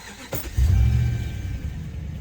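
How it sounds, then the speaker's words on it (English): A 2010 Ram 1500 with a Hemi V8 engine and a misfire fault starts up, a short click and crank catching into a deep, steady idle rumble close by. "Start the engine."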